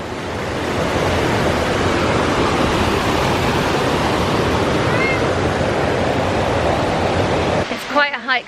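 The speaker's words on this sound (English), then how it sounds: "Correction, this was actually the last waterfall." Constant dense roar of rushing water at the last waterfall of a hillside walk, loud and close for most of the stretch before it suddenly drops away as a voice begins speaking.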